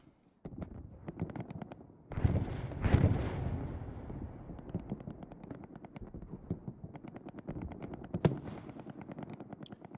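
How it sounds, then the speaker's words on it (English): A rocket blasts in Hell Let Loose, a World War II shooter, with a loud boom and rumbling tail, then scattered distant gunfire and another sharp report, with no talk. "Rocket."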